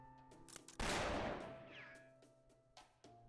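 A single loud gunshot with a long echoing ring in an enclosed space from the Fate/Grand Order game, sharply struck then decaying over about a second and a half amid faint game tones and clicks.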